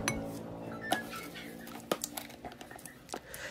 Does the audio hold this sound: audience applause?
no